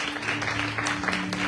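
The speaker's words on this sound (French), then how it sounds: "Est-ce qu'on peut acclamer le Seigneur?" A church congregation applauds together during a service, a steady wash of clapping that holds at an even level throughout, with a low electrical hum underneath.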